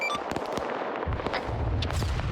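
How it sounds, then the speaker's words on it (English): Video game gunfire at a refugee camp on Isla Duala, a dense run of sharp shots and bursts with a low rumble underneath, continuous and fairly loud throughout. "There is gunfire at the refugee camp."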